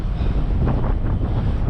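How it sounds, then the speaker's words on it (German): Cool, gusty wind buffets the microphone during a long-distance Audax 600 brevet bike ride, a loud, continuous low rumble with no talking. "und ja, fieser Wind hier."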